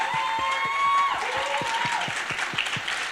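Sustained audience applause at a national cannabis policy summit, a dense wash of clapping with a few distinct nearby claps, a faint tone ringing through it.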